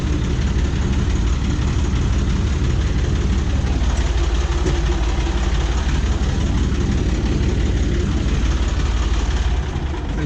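Farm tractor engine idling at low revs in neutral, a loud, steady low rumble that stays close and constant for about ten seconds without speech.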